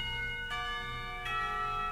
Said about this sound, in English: The clock tower bell rings, signaling the end of the period.